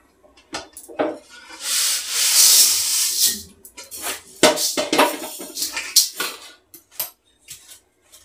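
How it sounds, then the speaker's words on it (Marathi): Dry-roasted rice is scraped out of a pan with a utensil, producing close, loud rubbing and gritty scraping strokes in irregular bursts, with brief pauses between sweeps. "तांदूळ आपले चांगले भाजलेले आहेत. तांदूळ पण आपण काढून घेऊया."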